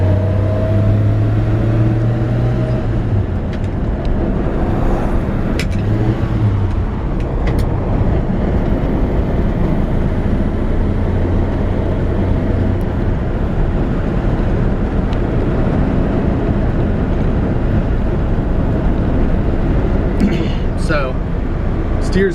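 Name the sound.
1954 Chevrolet 3100 truck driving on road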